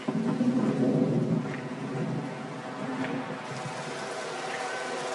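Rain and thunder from a football video game, a dense steady wash of rainfall with a low rumbling roll that eases after the first second and continues evenly.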